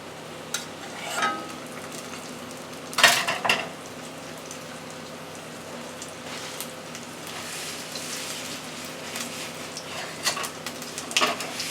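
A fried beef potato pie sizzles steadily in a pan on the stove, soft continuous crackle with a few louder spits and scraping stirs around it.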